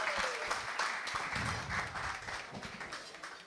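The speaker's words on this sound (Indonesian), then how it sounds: "Tepuk tangan dulu dong." A studio audience at a political talk show claps for several seconds, a dense, moderately loud patter of many hands with no talking over it.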